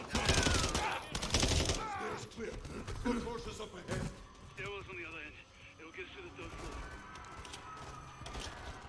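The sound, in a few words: gunfire from P9 pistol in video game Call of Duty: Modern Warfare III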